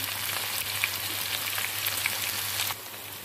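Okra fries in a pan with a steady, close sizzle and fine crackling pops, even and moderately loud, easing slightly near the end with no talk.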